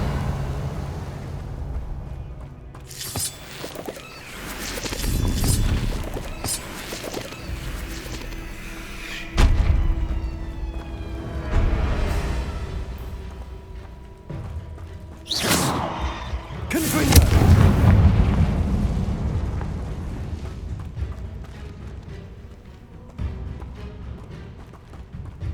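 Spell explosions from the video game Hogwarts Legacy, a series of heavy booming blasts and thuds at irregular intervals, loud and close, with some crackling impacts in between.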